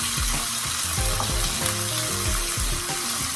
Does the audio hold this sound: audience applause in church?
no